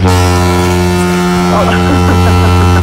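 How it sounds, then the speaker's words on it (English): A foghorn sounds on a rainy day, a loud, continuous low drone lasting throughout, with some faint clattering noise in the background. "the foghorn has gone off"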